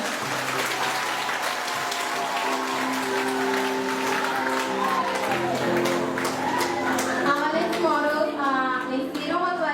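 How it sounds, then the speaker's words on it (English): Sustained audience applause fills a fashion show runway, thick and steady throughout, with music tones and scattered voices running beneath it. "Please give a hand for Nikitona and Jonas."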